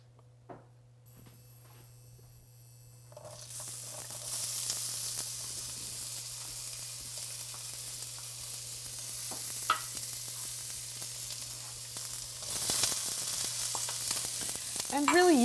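Vegetables sizzling in extra virgin olive oil in a skillet for an egg bake, a quiet start building into steady frying hiss with occasional stirring scrapes, no talking.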